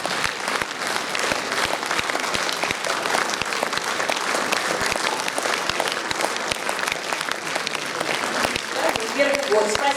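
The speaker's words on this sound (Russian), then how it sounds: "Аплодисменты зала." Sustained applause from a concert hall audience at a charity concert in Tula, dense and loud with distinct sharp claps throughout, steady for the whole stretch.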